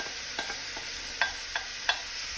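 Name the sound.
lamb browning in olive oil in a pan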